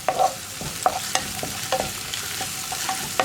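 Onions fry with curry leaves in a pan, hissing steadily while a spoon stirs them with repeated clinks and scrapes, close up and with no talking.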